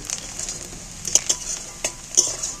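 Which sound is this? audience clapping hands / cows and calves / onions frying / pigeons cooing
onions frying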